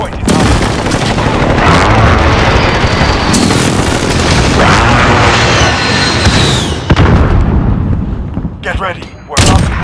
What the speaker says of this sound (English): Friendly precision airstrike on the hardpoint contested.